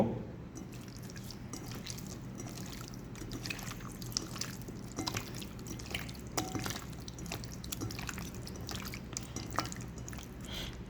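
Chicken worked by hand with ginger garlic paste and mustard oil for a Punjabi chicken curry, giving soft, quiet wet squishing and dripping sounds, continuous and close with no talk.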